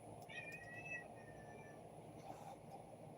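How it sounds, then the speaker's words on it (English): A gray and white cat meowing in complaint indoors, two drawn-out whiny meows followed by a fainter one, quiet against a low room hum. "one of my kitties, my gray and white, who's starting to complain"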